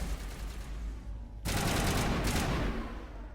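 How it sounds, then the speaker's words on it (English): Loud gunfire from the video game Mass Effect, a sustained burst of shots erupting after a stretch of steady background game noise and continuing as a dense, rattling volley that briefly eases and then surges again. "Why don't you turn down gunfire volume actually, because that's actually pretty loud."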